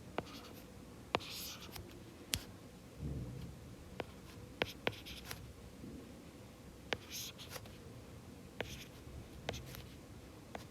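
A pen writes out two algebra matrices on paper, with scattered sharp taps and steady scratchy strokes throughout, close and fairly quiet, with no talking.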